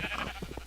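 Short sheep bleats in Minecraft, a few wavering cries close together over a steady game hum.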